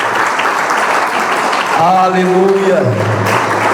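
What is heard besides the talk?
congregation applauding in church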